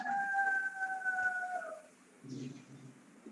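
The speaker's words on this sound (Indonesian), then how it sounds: "Itu ayam siapa yang bunyi sih?" A rooster crows once in a long, drawn-out call, faint and distant behind the hum of an online meeting, followed by brief muffled noise.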